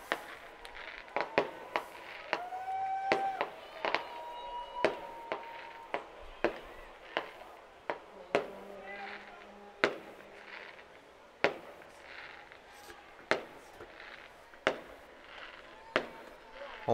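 Fireworks burst in repeated sharp bangs at a baseball game, sounding every second or so across the whole stretch, with crowd noise and an announcer speaking underneath.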